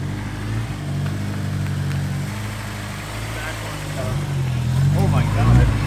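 A Honda S2000 engine fitted with a Buddy Club exhaust revs up and holds steady, with a low droning tone that rises in pitch toward the end while people talk over it nearby.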